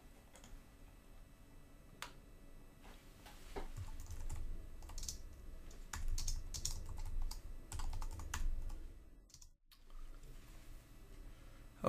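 Brisk typing of code on a computer keyboard, a dense run of close clicking keystrokes that grows busier midway, then stops abruptly near the end, with no voices.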